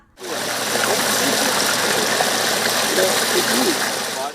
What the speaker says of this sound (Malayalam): പാടശേഖരം കരകവിഞ്ഞ് വെള്ളം പുരയിടങ്ങളിലൂടെ ഒഴുകുകയാണ്